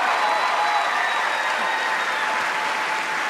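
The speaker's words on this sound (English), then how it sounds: "So I, along with the audience, applaud you for that." Dense, steady applause from an audience for a stage performer, loud and continuous throughout with faint crowd murmur underneath.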